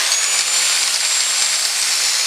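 A forged metal piece is cut off with a power tool, giving a loud, steady, bright grinding hiss with a constant whine, unbroken from start to end.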